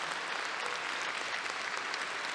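Steady applause from an audience honouring panelists at a commemorative event, a brief, even wash of clapping with no talk over it.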